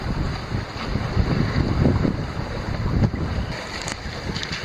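Sailboat on a beam reach near Gardiners Island making 4 to 5 knots, with steady rushing water along the hull mixed with wind buffeting the microphone, continuous and fairly loud throughout.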